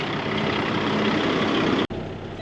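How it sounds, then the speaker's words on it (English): A heavy truck in Farming Simulator 22 drives with a steady, loud engine drone. The sound cuts out briefly near the end, then resumes at the same level. "Take that truck to town."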